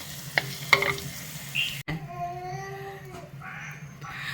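Curry leaves and chillies frying dry over a medium flame for Kerala sadya inchi curry, a steady close sizzle with a few sharp utensil clicks and stirs, plus a brief cat-like squeak partway through.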